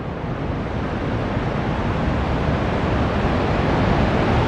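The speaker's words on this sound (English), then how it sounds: "What a gorgeous little creek." A small creek in mountain country beside the Beartooth Highway rushes in a loud, dense, unbroken wash of flowing water, close to the microphone and steady throughout, with no voices.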